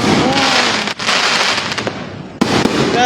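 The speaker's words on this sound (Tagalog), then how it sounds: "Mahina ang putukan ngayon sa Makati." Dense New Year fireworks barrage in Makati, Philippines, a continuous roar of crackling bursts and booming pops with whistling rockets, loud and sustained with only brief dips, plus a sharp fresh burst near the end.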